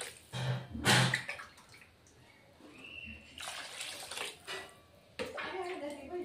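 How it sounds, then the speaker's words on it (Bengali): Water is poured into a pan for a rui fish curry with cauliflower and potato, giving short, fairly quiet splashing and trickling bursts, with faint voices nearby. "জল দিয়ে দিলাম"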